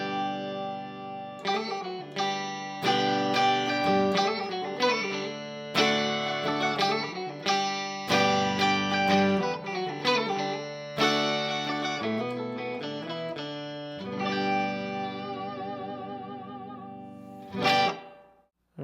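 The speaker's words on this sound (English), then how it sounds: "just using the micropog with mostly just the upper octaves here, you get kind of a 12-string guitar sound" Electric guitar run through an EHX Epitome pedal with the Micro POG adding mostly upper octaves and room reverb, giving a shimmering twelve-string-like tone as chords and single notes ring out, ending in a brief burst.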